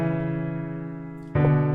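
A sustained minor chord on a software synth in FL Studio, rich in harmonics, holds steadily, then a second chord enters abruptly and louder near the end; no voices.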